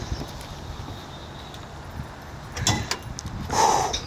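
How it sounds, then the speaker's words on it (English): The hood of a truck fitted with a new bumper and lights is popped open, giving a couple of close mechanical clunks and a latch release amid a quiet background. "I'll crack the hood for you."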